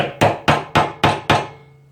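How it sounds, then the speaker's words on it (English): A hammer lightly taps a screwdriver into a screw head on a Honda ATC starter motor: five crisp, evenly spaced metallic knocks, close and loud, each ringing briefly before fading. "We'll just give it a light tap to seat the screwdriver into the head."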